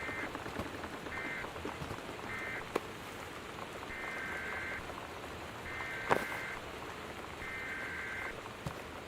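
Steady rain patters in the video game Gone Home, a constant soft hiss with a few louder drips, overlaid by short repeating beeping tones like a weather alert signal.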